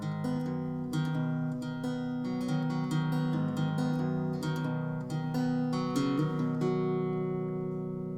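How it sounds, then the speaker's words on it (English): Guitar picking the intro to a country song, a steady sequence of plucked single notes and open strings ringing together in a clean, moderately quiet melodic pattern with no talking. "So altogether, the first part of the intro should sound like this."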